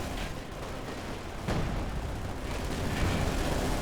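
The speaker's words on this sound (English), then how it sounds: "Artillery doing a bit of friendly fire action." Artillery fire in Company of Heroes 2 during a large 4v4 match: a continuous dense rumble of distant battle, with a heavier blast at about one and a half seconds and another around three seconds, no talk.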